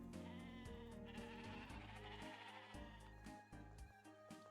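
Sheep bleating in the farming video game Discounty, repeated cries layered over continuous game music that plays throughout.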